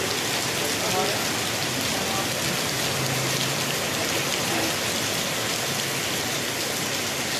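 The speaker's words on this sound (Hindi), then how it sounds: "बारिश भी हो रही है" Steady broadband rain falls while the sun shines in Patna, a dense continuous hiss of drops on surfaces throughout, fairly close and even in loudness.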